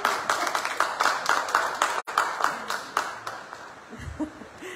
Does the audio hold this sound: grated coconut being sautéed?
no